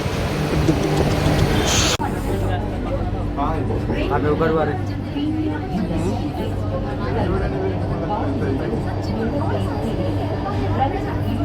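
A metro train rumbles into a busy station near Orion Mall in Bangalore with a low, steady drone while a crowd chatters and voices talk loudly over it nearby.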